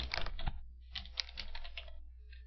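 A name is typed on a computer keyboard as short clusters of crisp, quiet key clicks in quick bursts with brief pauses between them, close and alone.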